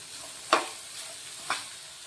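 Finely chopped onion fries in a pan for bun dosa, a soft sizzle broken by two sharp scraping stirs about a second apart.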